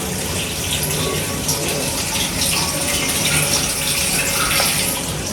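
Steady water rinsing from a small hose pipe attachment fitted with a spinning ball nozzle, spraying at modest pressure during brewing equipment cleaning; a continuous broadband gush runs nearly unchanged throughout, close and fairly loud, with no talking.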